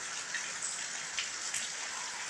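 Rainwater leaking indoors into an office drips and splashes onto a hard surface in a soft, steady patter, faint and continuous with a few slightly louder drops.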